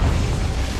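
A Confringo explosive spell goes off in Hogwarts Legacy: a short, dense blast of low rumbling noise that holds steady and loud for under a second.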